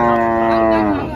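A single cow moos loudly and close by at a busy HF cattle market, one long drawn-out lowing call that fades slightly at its end.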